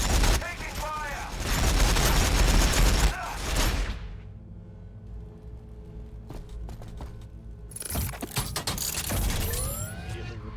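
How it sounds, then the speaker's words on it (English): Gunfire in Warhammer 40,000: Battlesector between T'au and Ork forces, a sustained loud volley of rapid shots with mechanical clanking, a quieter lull, then another burst of firing. "Taking fire."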